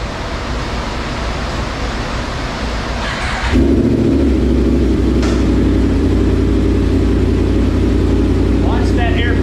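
A 2021 Yamaha R1 sport motorcycle with a pops-and-bangs burble ECU tune idles low and then jumps into a loud, steady rev that holds for several seconds, with a faint voice underneath.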